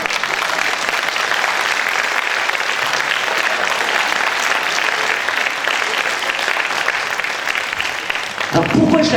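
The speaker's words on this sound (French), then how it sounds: "vous l'avez applaudi, mais pas assez fort" Sustained applause from an audience at a variety show in the Casino de Dieppe, a dense steady clapping that fills the room throughout before thinning out briefly at the very end.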